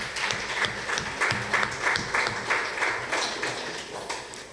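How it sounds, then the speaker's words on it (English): An audience applauding a school debate team at a grammar school competition, steady loud clapping from a crowded hall throughout. "Let's clap for them, please."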